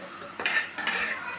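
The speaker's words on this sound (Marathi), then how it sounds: "मसाला आणि लाल तिखट घेतलेला शाही पनीर मसाला आणि मिक्स करून घेऊया" A spoon scrapes and clinks against a pan in two quick strokes while shahi paneer masala and red chili powder are mixed in, close and short with a faint sizzle beneath.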